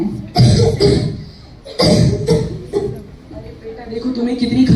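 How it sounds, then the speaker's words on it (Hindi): A person coughs several times in loud, close bursts, with short pauses between and some speech mixed in. "देखो तुम्हें कितनी खांसी हो रही है"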